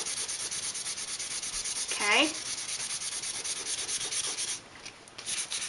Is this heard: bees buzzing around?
no